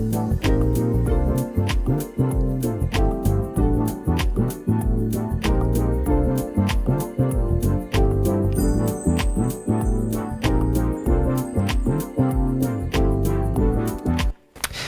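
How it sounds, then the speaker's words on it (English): A full music track built partly on two Korg Prologue synthesizer sounds plays continuously, dense layered synth and percussion with steady rhythmic hits, loud throughout and cutting off abruptly near the end. "So here we have a song that is, among other things, utilizing two sounds from the Korg prologue, and the track sounds like this."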